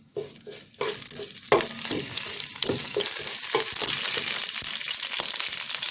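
Cumin seeds and bay leaves sizzle in hot oil in an open pot while kebab handi is cooked, with a steady close crackle and spoon scrapes and stirring clatters over it.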